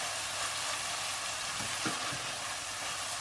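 Peas frying with onions in hot ghee for matar pulao, giving a steady, close sizzling hiss with a few soft stirring bumps and no talking.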